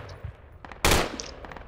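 Gunfire in the video game Project Reality, a single loud close burst of shots lasting a fraction of a second, surrounded by quieter distant pops and faint background noise.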